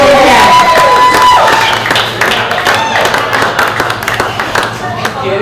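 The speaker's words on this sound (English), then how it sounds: "Give a big round of applause." Clapping and cheering from a small crowd at a red-carpet launch held in a fruit and vegetable shop, loud at first then thinning into scattered claps, with voices and chatter mixed in.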